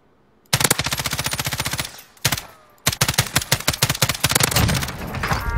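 Rapid automatic gunfire in the video game Warzone, two long rattling bursts of closely spaced shots separated by a single heavy report, loud and close with no talk over it.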